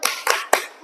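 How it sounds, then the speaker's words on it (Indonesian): Classroom of pupils in a physical education lesson doing a rhythmic salute clap, three sharp bursts of group clapping in a quick pattern, close and fairly loud. "Betul lagi El Gibran, kita kasih tepuk salut."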